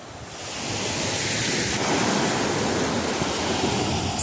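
Ocean waves breaking steadily on a pebble beach at Coin du Banc in Gaspésie, a loud continuous wash of surf with a rushing hiss and no voices.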